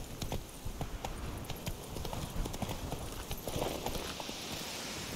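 Hooves of Roach, Geralt's horse in the video game The Witcher 3, clip-clop in a steady galloping rhythm, close and fairly loud, with a brief whinny partway through and no talking.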